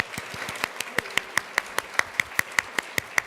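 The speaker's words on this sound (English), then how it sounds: "if we could give a quick round of applause to them because they made it happen" An audience applauds at a university social innovation showcase: a crowd's clapping, with a few hands settling into a steady, evenly spaced beat that carries on to the end.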